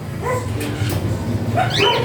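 A dog barks and yips several times at close range, mixed with whimpers and high yelps over a steady low background noise.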